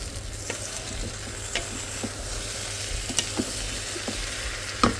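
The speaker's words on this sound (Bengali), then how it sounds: "চালটা খুব ভালো করে ভাজা যাক" Rice being dry-fried in a pan without oil gives a steady, soft sizzle, with occasional light scrapes of a spoon as it is stirred, close and alone with no talk.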